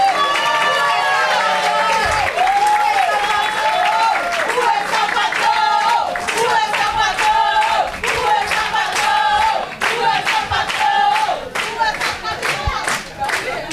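An audience at a public seminar claps and cheers for a woman being introduced, with energetic applause and whoops running throughout under excited overlapping voices.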